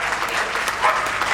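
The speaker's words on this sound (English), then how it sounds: "give him a big round of applause" A crowd at a Darlington show claps steadily for the judge, a brief dense burst of applause.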